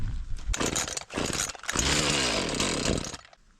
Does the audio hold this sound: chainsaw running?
yes